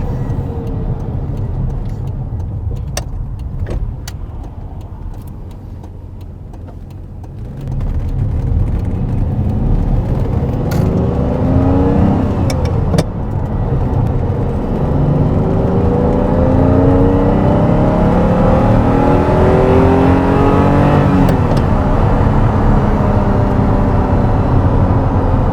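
A Ferrari 512 TR engine accelerating on the road, heard loud from inside the car, with a low steady drone building into repeated rising revs broken by gear shifts.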